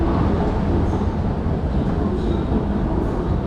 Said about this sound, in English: We're taking a tram to visit a unique mosque here.